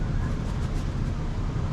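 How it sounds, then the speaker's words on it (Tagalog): Steady, close wind rushing up from below a cable car riding out toward Sentosa Island, a continuous low broadband roar with no breaks. "May hangin galing sa ilalim."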